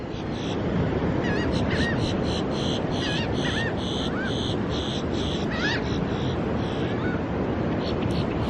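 Seagulls call in short, repeated squawks above steady surf and wind on a beach at Kure Beach, North Carolina, at sunrise, the calls moderately distant and partly masked by the constant wash.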